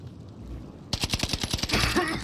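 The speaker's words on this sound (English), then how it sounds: "I'm laying down cover fire." Automatic gunfire in the video game Warzone, a sudden rapid burst of loud close shots in a steady rhythm, breaking into a denser mix of shots after a short lead-in of quiet background.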